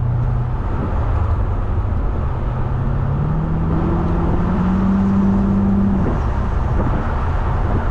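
A 2000 Mercedes-Benz SL600 holding speed on cruise control, its engine droning steadily inside the cabin with a rising, shifting throttle tone over constant road and tire rumble, loud and close.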